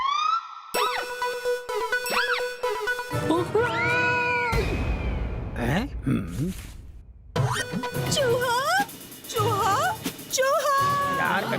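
Cartoon cats meow in a long run of high, sliding, wavering cries, some stretched into caterwauls and others short, with loud comic boings and crash effects and bursts of voices between them.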